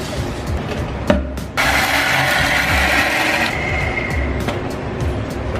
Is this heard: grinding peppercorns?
yes